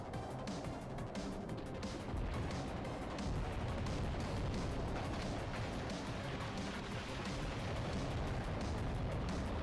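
Bombs and weapon fire in the Dreamcast shoot-'em-up SturmWind roar on without pause as a dense, booming wall of blasts and crashes, with no gaps and no voices.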